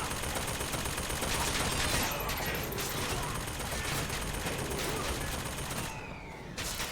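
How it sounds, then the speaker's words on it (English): Sustained turret gunfire in BioShock Infinite, a dense rattling stream of shots running almost without a break at steady loudness, with a brief sharp burst near the end. "Oh look, we can turn the turret"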